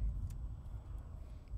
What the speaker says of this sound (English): Okay, so I let that car pass,